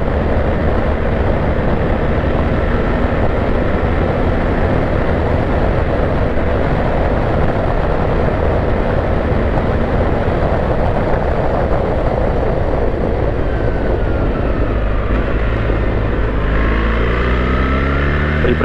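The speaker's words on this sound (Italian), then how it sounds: "Riprende molto bene il motore." A 2024 BMW R 1300 GS motorcycle engine drones continuously while riding, loud and close with a steady roar amid wind rush, the pitch climbing as it pulls strongly near the end.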